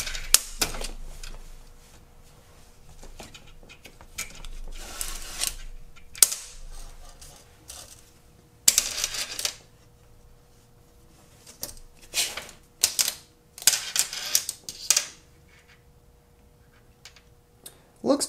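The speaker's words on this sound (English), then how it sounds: "So I will just measure this real quick. Excuse my tape measure." A tape measure clicks and rattles in scattered sharp bursts as the blade is pulled out and snaps back, close and intermittent over a quiet background hum.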